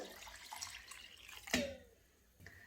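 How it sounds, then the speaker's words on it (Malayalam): Cold water runs and splashes steadily into a pot of rice for cooking, with a brief louder clatter midway before the flow continues more quietly. "ഇതിനകത്തോട്ട് നല്ല തണുത്ത വെള്ളമാണ് ഞാൻ ചേർത്ത് കൊടുക്കുന്നത്"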